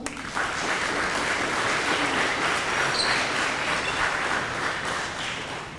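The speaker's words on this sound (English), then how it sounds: "Let's give them one more round of applause." A crowd at a school leadership day claps in a loud, continuous round of applause, dense and even from start to finish with a slight fade near the close.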